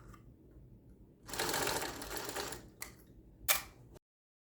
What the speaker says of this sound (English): I'm going to go to the machine and I'm going to just sew right on top of that